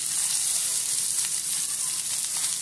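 Whole spices — bay leaf, cumin, cloves, cinnamon and cardamom — sizzle steadily in hot oil for a prawn pulao, a close, even crackling hiss with no voices.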